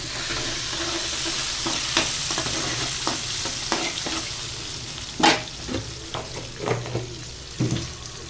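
Deep-fried onions and spices sizzle in hot oil for a mutton curry, a constant frying hiss broken by repeated scraping stirs and clinks of a spoon against the pan.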